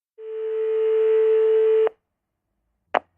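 Telephone line tone plays steadily for nearly two seconds, then cuts off abruptly; after a short silence, one brief sharp click or beep follows.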